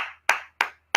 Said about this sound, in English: Big applause for Donna.